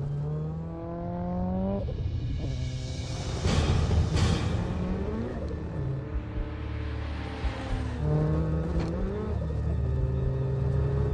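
A Lotus Esprit built for a 200 mph record attempt accelerates hard, its engine note climbing through repeated gear-change sweeps with a heavy, continuous roar and rumble close to the car.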